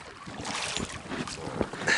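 Wind gusts buffet the microphone beside the water on a cold autumn day, a short rushing, rumbling burst that swells and surges irregularly.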